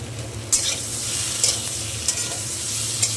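Fish curry frying in a pan with slit green chillies, stirred with a utensil: a steady close sizzle with sharp scraping strokes at a few points, no talking.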